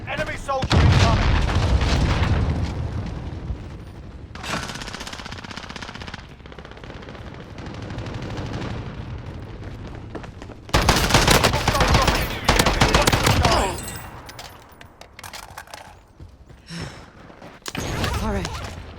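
Rapid machine gun bursts and sharp sniper shots crack through a first-person shooter video game battle, loud and repeated in clustered volleys with short lulls, while a player talks over the gunfire.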